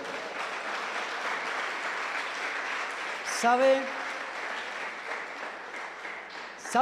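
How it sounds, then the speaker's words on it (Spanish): Congregation applause at a Spanish-language church service, a sustained moderate clapping from the crowd filling most of the stretch, with a voice cutting in briefly near the middle and at the end. "¿Usted cree que Dios merece un aplauso? Hágalo."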